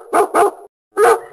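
A pet dog at home gives three sharp, close barks: two quick ones in a row, then a brief gap before a third.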